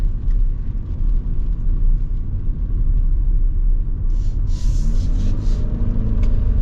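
A 2024 Toyota RAV4 Woodland hybrid drives along, giving a loud, constant low road rumble inside the cabin, with brief higher hissing bursts near the end.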